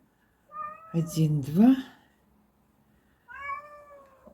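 A sick cat meows several times, drawn-out and close, followed by a pause and one more meow, with a person speaking briefly.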